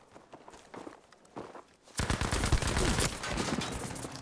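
Battlefield 5 multiplayer gunfire, with an MP40 or STEN in the mix: after two quiet seconds of faint footsteps, a loud, dense burst of rapid shots and impacts breaks out up close and keeps going.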